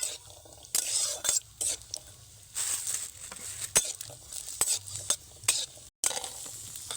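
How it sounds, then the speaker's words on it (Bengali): Cashew nuts frying in hot oil while being stirred, a steady close sizzle broken by repeated scraping strokes of a utensil against the pan. "কাজু বাদামগুলো হালকা যখন কালার ধরতে শুরু করবে তখন এগুলোকে ভেজে তুলে নেব"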